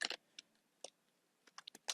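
Keys clatter on a computer keyboard in a quiet room, a few sparse taps followed by a quick burst of clicks, close and fairly soft with no talk.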